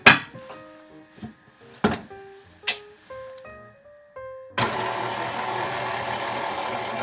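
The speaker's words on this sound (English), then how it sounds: "You want to make sure that you start it on low, lock your mixer, and gradually work your way up to a higher speed." A few sharp clinks of kitchen utensils and bowls come first. Then a stand mixer starts on low with a steady whirring hum, mixing icing sugar for tea shortbread cookie dough.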